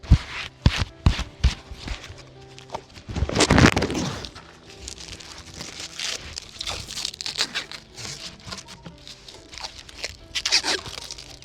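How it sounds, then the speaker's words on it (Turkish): Stretch film being wrapped around a fresh walnut graft, giving irregular crinkling, crackling and tearing noises up close, with short bursts and one longer stretching rasp. "Bir de streçini sarayım şimdi."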